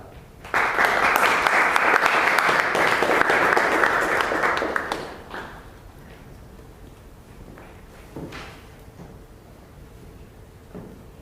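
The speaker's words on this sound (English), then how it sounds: "With a big round of applause" Applause from a Toastmasters public speaking meeting audience, a burst of clapping that holds strongly for about five seconds and then fades out, leaving a quiet room with a few faint knocks and shuffles.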